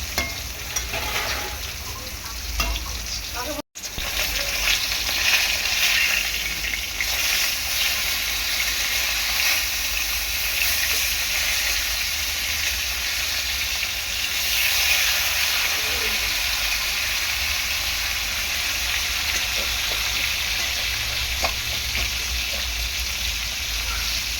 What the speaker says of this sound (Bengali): একদম জ্যান্ত মাছ, একটু ভালো করে ভাজতে হবে।